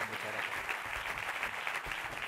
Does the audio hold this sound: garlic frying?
no